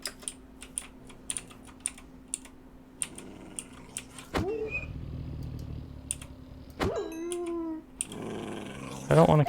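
Dogs growling and snarling in a Minecraft modpack, several short loud growls and yelps cutting in over steady computer-keyboard typing clicks, close and sharp, with someone talking.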